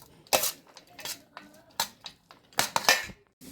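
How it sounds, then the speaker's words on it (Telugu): A spoon clinks and scrapes against a pot while lemon rice is mixed top to bottom, sharp irregular metallic taps in bursts with quiet gaps between, close and clear. "మొత్తం కలుపుకోండి పైనుంచి కింద దాకా."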